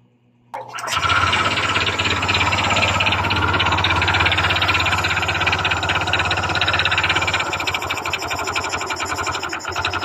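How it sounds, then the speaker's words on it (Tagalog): A Honda Click 125 scooter engine with a connecting rod fault starts up abruptly and keeps running loudly, with a fast buzzy rattling clatter throughout and steady low hum. "nandun pa rin ang ingay ng kanyang makina guys. Makalampag pa rin."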